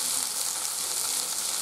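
Chopped tomato sizzles and fries steadily in a pan while being stirred, a continuous close, bright crackling hiss with no talk.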